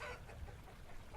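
Chickens cluck softly in the video game Vintage Story, a faint, brief burst of low clucking over a steady background of game ambience.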